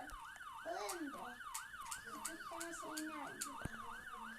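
A police car siren wails in a fast repeating up-and-down cycle, loud and close, with a few sharp knocks and faint voices in the background.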